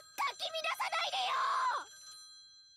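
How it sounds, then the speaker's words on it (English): Telephone ringing in the video game Tokyo Babel, a series of short shrill electronic rings followed by a longer sustained ring, fairly loud and close, with no talk over it. "The shrill ringing worked as acute torture."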